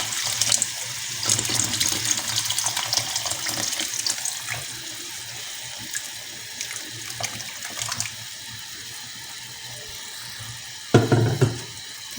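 Hot water poured into soaked rice in a pot for aloo pulao, a continuous splashing pour that gradually eases, with a short louder splash near the end and no talking.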